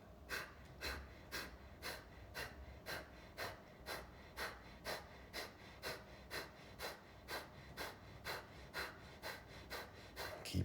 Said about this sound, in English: Continue with Kapalabhati.